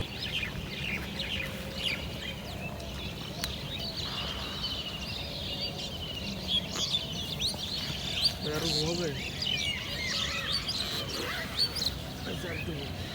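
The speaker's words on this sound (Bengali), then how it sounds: "সানরাইজিং এর সাথে সাথে পাখির ডাকগুলা এত অসাধারণ ছিল" Birds call and chirp at sunrise beside Mahamaya Lake, faint scattered tweets over a steady hum of background noise, with some fowl-like clucking nearby.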